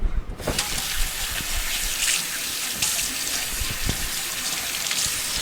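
Tap water runs steadily into a kitchen sink for a quick wash at a cooking station, a continuous close splashing gush with brief gaps and soft clatter, no talking.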